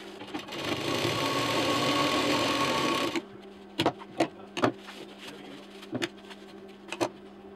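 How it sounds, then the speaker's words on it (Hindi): An electric sewing machine stitches cord onto a wooden-handled shopping bag, running in a continuous rattling whir for about three seconds, then giving several short separate bursts of stitching. "यहाँ पूरा इस तरह से सिल देंगे और डबल मशीन चला देंगे"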